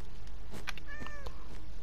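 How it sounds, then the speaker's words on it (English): A cat meows in the Minecraft video game, a single drawn-out meow with a rising then falling tone, clear and close over a faint steady game background. "oh, there's a cat in here!"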